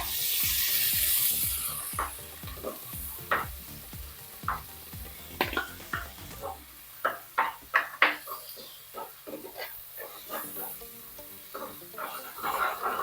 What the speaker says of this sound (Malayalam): ഇനി ഇതിനകത്തോട്ട് 2 തക്കാളി ഗ്രേറ്റ് ചെയ്തത് അത് ഇട്ട് കൊടുക്കേ